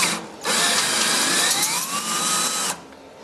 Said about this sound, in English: I tap using my cordless